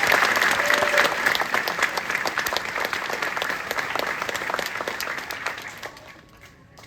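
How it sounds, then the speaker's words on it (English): Audience applauds a soldier at a US Army award ceremony, a sustained wash of many hands clapping that tapers off near the end. "Please give this soldier a round of applause."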